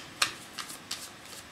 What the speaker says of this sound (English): Just make sure you can see the shuffling good